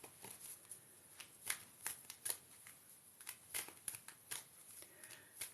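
Tarot cards shuffled and riffled by hand, giving a run of quiet, crisp flicks and snaps in an uneven rhythm, close by with no talk.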